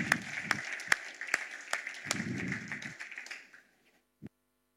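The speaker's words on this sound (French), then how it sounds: "Je vous demande d'applaudir Éric Trousset, s'il vous plaît." Audience applause at a conference plenary session fills the room, with sharper individual claps standing out, then fades out near the end before a single faint tap.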